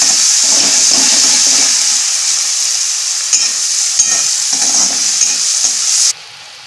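Onion tomato masala with salt fries hard over high heat in a pan, a loud close sizzle broken by repeated scraping stirs before the sound drops away abruptly at the end.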